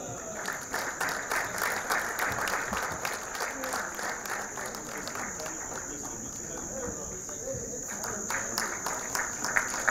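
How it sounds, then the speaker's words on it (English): Applause from an audience at a live news event, a steady dense wash of clapping with some background crowd noise throughout, moderately loud. "May we clap for that."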